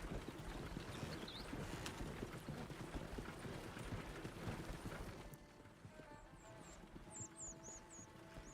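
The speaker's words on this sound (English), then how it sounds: "That horse was just riding out on its own." A horse in a video game clip-clops at a quick, even trot with rapid hoof beats under a busy rumble. The hooves fade abruptly, leaving quieter ambience with birdlike chirps.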